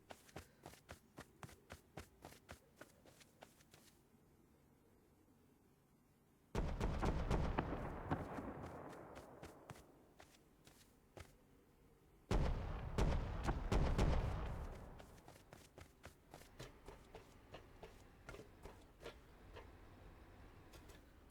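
A Bradley APC firing in the Rust survival game, two heavy distant bursts of cannon fire with long rumbling tails, amid scattered faint ticking shots and clicks, no talk.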